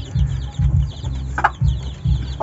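A rooster with a comb that splits at the tip, clucking in short repeated bursts, close and fairly loud, with one sharper call in the middle.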